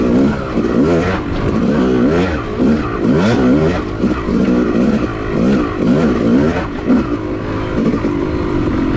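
A Yamaha YZ250 two-stroke dirt bike ridden over a run of whoops on an OHV trail, its engine loud and close, rising and falling in quick repeated revs as the throttle is worked over each bump.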